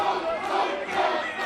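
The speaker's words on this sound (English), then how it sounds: "The crowd is cheering him on" A crowd at a pro wrestling show roars and cheers loudly in a large venue, a dense sustained wash of many voices with no single speaker standing out.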